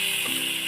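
Oil sizzling and crackling in a pan while cooking chilli paneer with potatoes and spices, a steady close hiss with a faint stir near the end.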